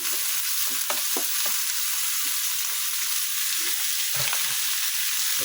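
Hard squash (kalabasa) tossed into a hot pan for pakbet, frying with a steady close sizzle and scattered stirring clatter, no voices.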